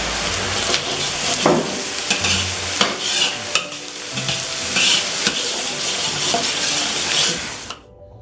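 Soy sauce poured around the edges of chicken fried rice in butter hisses into a loud, bubbling sizzle with scraping stirs and clatters, close up, before cutting off abruptly near the end.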